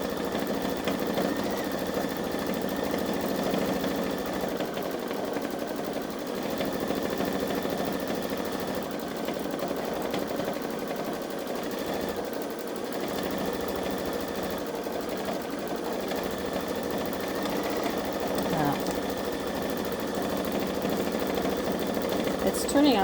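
A Baby Lock Solaris Vision embroidery machine stitches a Santa snowman design, giving a steady, continuous mechanical whir with a fast stitching rhythm throughout.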